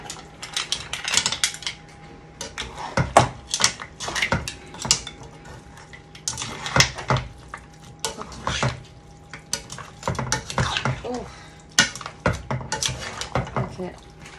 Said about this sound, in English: throw the mussels back in.